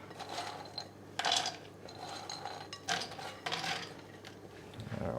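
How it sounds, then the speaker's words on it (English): Spiced nuts tipped into a pan over medium-high heat and tossed about, a series of light rattling, scraping clatters of nuts and utensil against metal, fairly quiet and close. "So we simply are just going to add the nuts into the mix."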